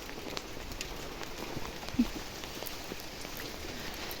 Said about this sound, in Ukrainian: Ой, опять пускається дощ.